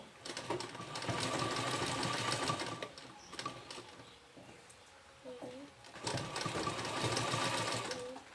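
A sewing machine stitches across fabric to fix hooks in place at marked points, running in two steady bursts of rapid mechanical chatter with a short pause between; a bird coos faintly in the background.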